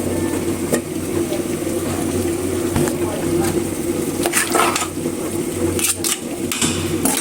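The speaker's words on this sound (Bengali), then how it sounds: "ভালোভাবে লাড়া দিয়ে নেই। মিশিয়ে নিয়েছি ভালোভাবে মশলার সঙ্গে।" Vegetables coated in salt, turmeric, chili and coriander powder are stirred in a pan, a constant low sizzle broken by several scraping strokes from a spatula.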